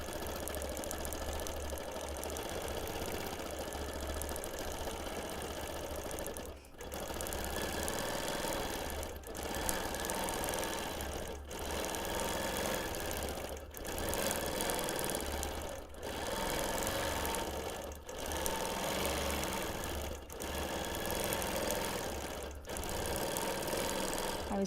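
A sewing machine doing free motion quilting of flower shapes on a hexie quilt, running in a steady close mechanical whir for several seconds at a time, broken by brief stops between stitching runs.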